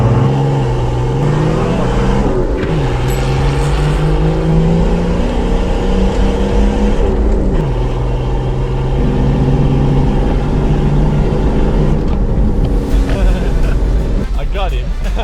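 Two slow cars race each other in a drag race, engines droning and revving steadily throughout with rising and falling pitch, while people talk over the engine noise.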